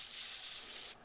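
Sandpaper of 180 grit rubs steadily against a spinning aluminum ornament sphere on a wood lathe, a continuous loud hiss that drops off abruptly near the end.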